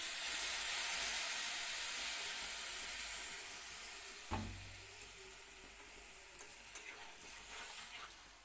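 Water poured into a hot pan triggers a burst of sizzling and bubbling, then a steady hiss of simmering steam, faint and with no talking.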